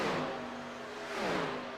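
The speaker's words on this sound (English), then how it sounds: "we have a ton of cars on pit road" Simulated 1987 NASCAR stock cars crowd pit road at Daytona International Speedway in the iRacing game, their engines a moderate, droning whine with gently rising and falling pitch as several cars roll through.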